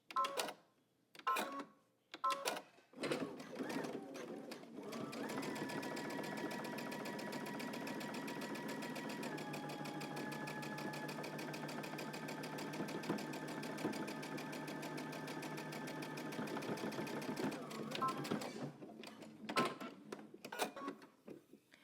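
A domestic sewing machine stitching close to a folded fabric hem edge runs in a long, steady whirring drone for about twelve seconds, preceded and followed by a few clicks and handling sounds.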